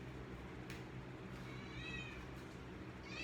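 A cat meows in a quiet room, two or three rising, drawn-out calls spread over a few seconds above a steady low hum, with no talking.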